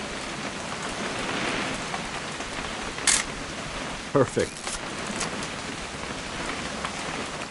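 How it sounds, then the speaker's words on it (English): Steady rain falls in the video game What Remains of Edith Finch, a dense, even patter that runs throughout. A few brief clicks and thumps punctuate it, and a voice speaks once briefly. "It's gonna rain the whole weekend, isn't it?"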